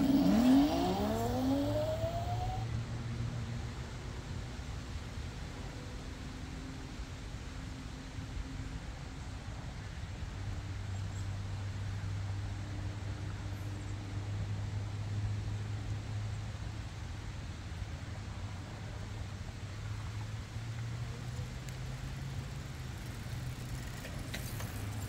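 A Vsett 11+ electric scooter being ridden, a steady whirring motor hum with a rising whine at the start, wrapped in constant wind rush, no talking.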